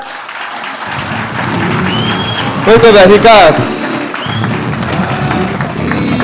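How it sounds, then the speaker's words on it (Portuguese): Crowd applause for Ricardo at a talk, a dense, fairly loud patter of clapping lasting throughout, with a voice speaking over it midway. "Palmas pro Ricardo!"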